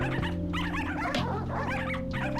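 Demon puppy in the indie video game Dog Witch barks and yips over a steady droning game music bed, several short dog calls close and clear.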